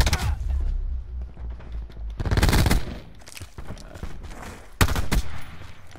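M16 rifle fitted with a reflex sight fired in Black Ops 4, heard as short loud bursts of rapid automatic shots separated by pauses, with faint background movement between volleys and no talking.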